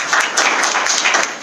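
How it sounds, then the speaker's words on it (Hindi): Loud, close applause from an audience for Ved Prakash Ojha at an IMC business plan meeting, a dense burst of many hands clapping throughout the short moment. "उनके लिए भी एक जोरदार तालियां"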